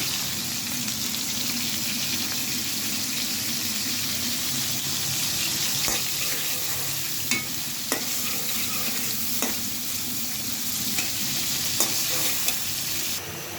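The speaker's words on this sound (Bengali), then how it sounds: "শুরুতে তেলে তেজকুচি দিয়ে দিলাম" Whole spices sizzle and crackle steadily in hot oil at the start of a Bengali curry of goat and beef head with split chickpea dal, with occasional clinks of a stirring spoon against the pot.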